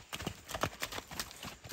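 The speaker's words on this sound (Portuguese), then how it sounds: "Vai lá, cavalo, buscar ele. Vai no galope" Quick, regular hoofbeats of a horse galloping, a steady clattering rhythm close by with no voices.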